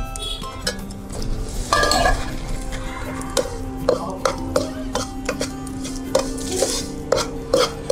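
Besan being stirred and roasted in ghee in a pan for Punjabi-style besan burfi, with a steady low sizzle and repeated clinks and scrapes of a spoon against the pan, close and moderately loud.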